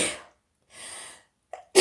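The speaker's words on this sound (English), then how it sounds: "I've got to sneeze." A single sharp sneeze bursts out, preceded by a short breathy intake and followed by a quick gasp, close and fairly loud.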